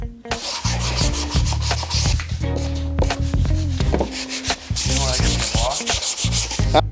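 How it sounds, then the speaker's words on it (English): Plywood pieces sanded by hand, heard as loud, close, continuous rasping strokes in a quick back-and-forth rhythm with brief pauses between passes. "gonna sand these down a little bit"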